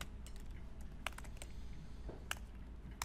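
Fingers type on a computer keyboard in quick, irregular clicks at close range, with a few sharper key strikes standing out over a low background hum.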